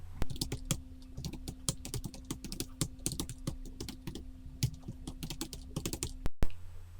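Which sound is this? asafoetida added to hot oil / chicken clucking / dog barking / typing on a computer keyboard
typing on a computer keyboard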